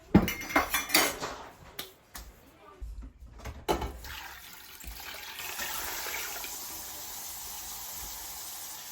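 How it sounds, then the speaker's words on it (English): Clinks and knocks of cookware, then about five cups of water pouring steadily into a pot for pear canning syrup, a continuous splashing rush that fills the second half. "And then we're going to add 5 cups of water"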